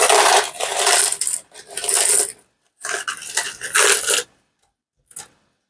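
Pieces of sea glass dropped into a puffy heart resin mold for starfish pendants, giving several short bursts of bright clinking and rattling, close and fairly loud, with a brief final clink after a pause.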